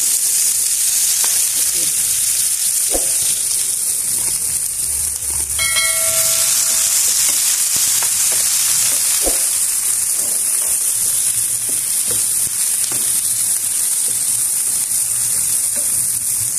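Garlic and onion fry in a pan for a Filipino ginataang isda, a loud, constant close sizzle like rain, with a few faint clicks and no speech.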